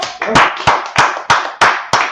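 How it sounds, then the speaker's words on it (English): An audience claps in a class gathering, with loud, close rhythmic claps of about six beats in just over two seconds, evenly spaced against a dense wash of hands. "Let's clap it up for the Lord."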